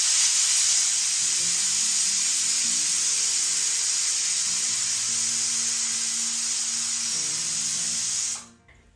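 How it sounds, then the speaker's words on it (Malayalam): A pressure cooker whistle blows loudly and continuously while horse gram cooks, a steady high hissing jet of steam lasting about eight seconds before cutting off abruptly, with faint kitchen sounds underneath. "ഈ വിസില് പോണത് മുതിര വേവണതാണ്"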